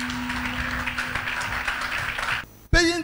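A church congregation claps together as an offering during a worship service, a dense sustained round of applause that cuts off, followed by a brief voice.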